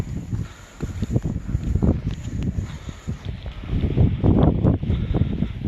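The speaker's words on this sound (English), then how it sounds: "Yeah, it's definitely windy." Wind buffeting a microphone outdoors in Iceland, gusty low rumble rising and falling, with faint footsteps or rustling underneath.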